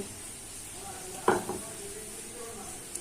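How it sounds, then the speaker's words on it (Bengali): Chopped tomato drops into a pan of frying onion and garlic, making a sudden close burst of sizzle and clatter against a steady background hiss of hot oil. "এবার টমেটোটা দিয়ে দেব।"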